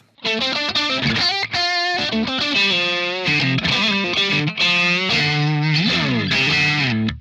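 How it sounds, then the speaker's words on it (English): Electric guitar through a Victory Kraken MKII metal amp boosted by a Spectral Fire pedal, crunchy and distorted, playing a loud sustained riff of chords and single notes with no talking. "Now just boosting it with the Spectral Fire."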